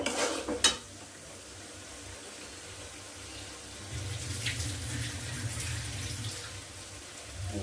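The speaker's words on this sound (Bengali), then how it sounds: "আমি এখন লতি রান্না করব ইচা মাছ দিয়ে, সেটা আমি এখন এই যে কষিয়ে নিচ্ছি" Lotus stems and small shrimp sauté in a pan, giving a soft, continuous sizzle with occasional stirring. A sharper clatter comes near the start, and the sizzle grows slightly louder in the second half. Nobody talks.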